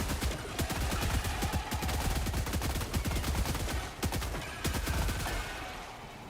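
Relentless rapid automatic gunfire in the video game Helldivers 2, a dense stream of close, loud shots running almost unbroken with a brief dip partway through.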